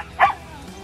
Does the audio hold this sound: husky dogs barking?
yes